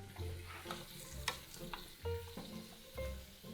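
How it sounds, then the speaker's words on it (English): Turnips caramelizing in a pan while being stirred, a soft steady sizzle broken by scraping spoon strokes against the pan, close and quiet with no talking. "gently stir the turnips and allow these turnips to slightly caramelize"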